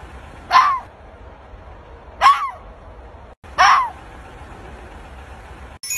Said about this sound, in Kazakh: Бұл түлкі. Түлкі шәуілдейді,